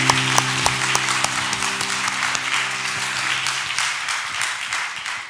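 A church congregation claps in a strong, dense burst of applause during a Friday night service, with sustained music notes underneath at first, then the clapping thins and fades slightly.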